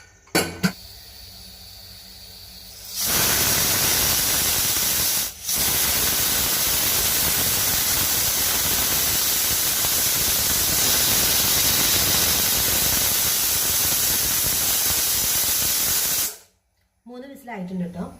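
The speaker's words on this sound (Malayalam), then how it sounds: "ഇനി ഈ കടലൊരു 3 വിസിൽ വരണേ." A pressure cooker holding overnight-soaked chickpeas with water and salt, cooking for kadala curry, lets out a loud, sustained steam hiss for about thirteen seconds with one short dip, bracketed by quieter kitchen sounds.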